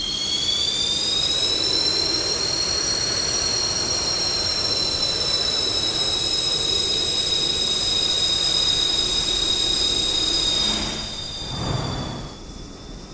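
A JF-17 Thunder jet engine whines steadily at taxi in DCS, a loud high-pitched turbine tone with a broad roar underneath, holding constant before dipping briefly near the end.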